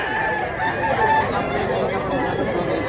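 Rooster crowing at a busy livestock market in Mantalungon, Barili, Cebu, a drawn-out call over a dense, constant crowd murmur with other fowl sounds mixed in.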